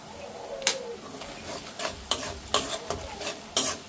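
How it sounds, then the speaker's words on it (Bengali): Spice paste with chili powder frying in a pan for a country chicken curry: a soft, steady sizzle broken by several sharp spoon scrapes at uneven intervals, close by, with no talking. "মশলাটা প্রায় কষানো হয়ে গেছে, এই যে দেখুন মশলাটা প্রায় কষিয়ে নিয়েছি"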